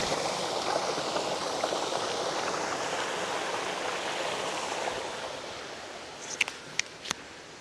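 Water pours steadily at Mahiwaga Falls, a waterfall in Amadeo/Trece Martires, Cavite. It makes a continuous broadband rush that holds level and eases slightly near the end, where a few sharp clicks and taps break through.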